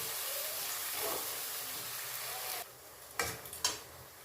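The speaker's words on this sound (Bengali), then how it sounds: "সব দিয়ে এবার আমি ভালো করে মশলাটা কষে নেব।" Spice masala with Kashmiri red chili powder sizzles in a pan for Bengali rui fish kalia. A soft, steady frying hiss gives way to a few sharp scrapes and knocks as a spatula stirs the masala close by.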